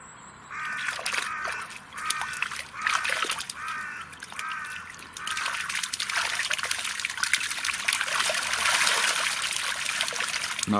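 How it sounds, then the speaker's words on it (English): Rudd spawn in a garden pond, churning the water into a continuous splashing wash that grows louder over time, while crows caw repeatedly in the background. "Now that is spawning activity."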